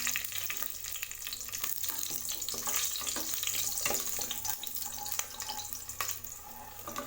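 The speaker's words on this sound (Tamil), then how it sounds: "பச்சை மிளகாய் பாருங்கள் நல்லா பொரிஞ்சிருச்சு." Green chillies slit down the middle fry in hot oil for coconut rice, a steady close sizzle and crackle with occasional stirring sounds, no talking.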